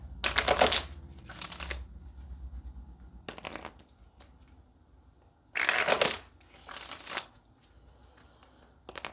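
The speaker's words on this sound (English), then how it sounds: "let's go ahead and get a couple of shuffles" Cards are shuffled in several quick riffling bursts, crisp and close, separated by short pauses with quiet handling noises between them.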